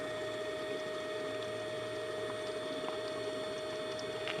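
A VAC TRAC vacuum tool on a tractor sucks fluid back up with a steady mechanical drone and a faint gurgling whir that continues unbroken for a few seconds, with no talking.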